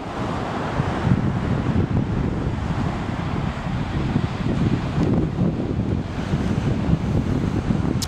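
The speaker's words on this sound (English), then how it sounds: "We got some little onshore breaks here right on the beach." Small onshore waves break right on the beach at Seaside Park, a continuous loud rush of surf mixed with heavy wind buffeting the microphone, with no voices.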